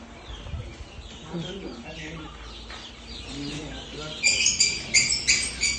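Month-old chicks on a poultry farm chirp in a busy chorus of high peeps near the end, with someone talking over quieter clucking earlier.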